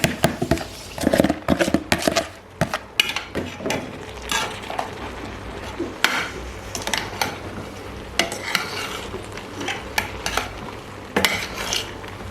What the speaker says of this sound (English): I'm going to stir this very well before adding the remaining half